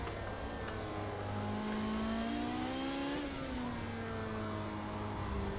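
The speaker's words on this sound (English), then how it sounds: "It's a drag race between two Ferraris." Ferrari F40 engines roar in a Project Cars 2 race, one car's note climbing steadily through the revs before a gear change and renewed climb, loud and sustained with no pauses.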